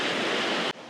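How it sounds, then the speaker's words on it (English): Pacific Ocean surf on a remote Baja beach, a loud broadband wash of breaking waves that drops off abruptly after a moment, with no talking. "Let's check the ocean."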